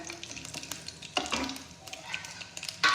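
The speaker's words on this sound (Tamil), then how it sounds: "இது கடுகு, உளுந்து, கருவேப்பிலை இதை போட்டுருவோங்க. போட்டுட்டு இது நல்லா பொரிஞ்சு வரணுங்க." Mustard seeds, urad dal and curry leaves spluttering in hot oil for upma, a low steady sizzle broken by sharp crackling bursts and pops, close by and with no talking.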